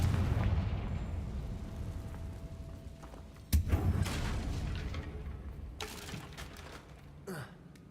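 A Confringo fire spell is cast in Hogwarts Legacy on hard mode, a sharp blast at about three and a half seconds followed by a fainter burst near the end, over a low rumbling game ambience.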